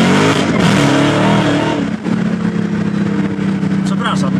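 A Dodge Challenger Hellcat Redeye rated at 808 hp revs hard while driving, a loud, deep engine roar that surges, dips briefly, then settles into a steady drone, with an excited voice talking over it.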